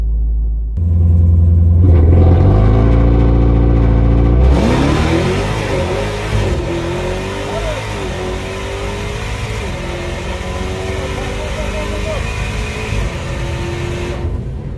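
A loud Dodge Demon 170 drag car engine rumbles, then roars as the car launches hard, lifting its front wheels, revs rising and shifting as it pulls away into a sustained drone.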